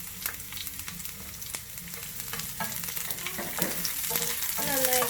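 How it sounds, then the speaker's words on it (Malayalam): Mustard seeds splutter in hot oil, then chopped shallots and curry leaves fry for the tempering of a taro root curry: a steady sizzle with sharp pops and crackles, growing louder toward the end, with no talk. "കടുക് പൊട്ടി നമുക്കിതിലേക്ക് ചെറിയുള്ളിയും കറിവേപ്പിലയും കൂടി അരിഞ്ഞത് ചേർത്ത് കൊടുക്കാം"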